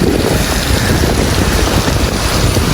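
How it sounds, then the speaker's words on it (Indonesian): Gusts of wind after rain on a city street in Beijing, a steady loud broadband rush that fills the whole clip without pause, like wind buffeting through wet trees and across a microphone. "Waduh, ada angin niup."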